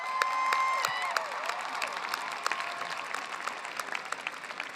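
Applause and some cheering from a commencement audience as the 2021 graduating Glee Club seniors stand, steady clapping with scattered sharp claps throughout.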